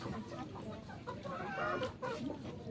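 Faint chicken clucking mixed into a noisy, busy background, with soft irregular clucks scattered throughout.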